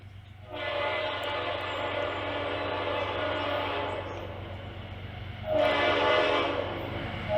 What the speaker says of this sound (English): Listen to that beautiful Leslie horn.